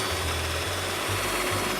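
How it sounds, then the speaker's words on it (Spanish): Electric mixer running on its lowest speed, beating egg whites to stiff peaks: a steady low mechanical whir with a slight cyclic pulsing, close and continuous with no talking. "Vamos a batir las claras a punto de nieve. La mínima potencia está bien."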